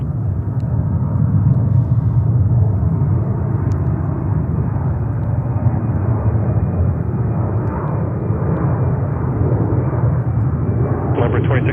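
An airliner landing on runway 22 right at JFK, a steady loud broadband engine roar and rumble that holds throughout with no pause.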